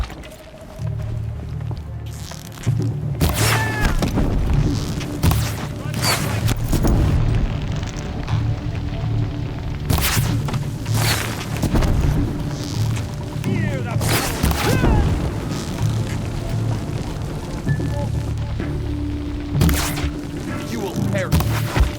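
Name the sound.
gunfire in the video game Horizon Zero Dawn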